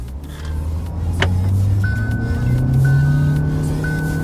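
A 2020 Hyundai i20 Sportz IVT accelerates during a 0 to 100 run, a steady in-cabin engine hum climbing gradually in pitch with a faint repeating electronic tone over it.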